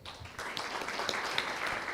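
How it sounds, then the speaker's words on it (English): Audience applause at a panel discussion on substandard and falsified medical products, a steady wash of many hands clapping that swells in after a brief quiet start and carries on evenly to the end. "Okay, round of applause."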